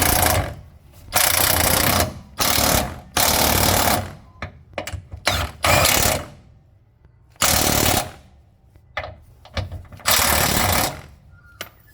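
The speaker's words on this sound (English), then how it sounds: "we have to tighten for the back two 19mm bolts" An impact wrench tightens the rear 19mm lower control arm bolts on a Nissan X-Trail T30 with a QR25 engine. It rattles out loud, close bursts of hammering, some long and some short, with quiet pauses between them.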